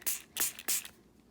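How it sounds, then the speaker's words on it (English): A spray bottle spritzing water onto a regular sheet of paper, making three quick close hissing bursts in a row, each short and soft. "So if I spray my water on a regular piece of paper"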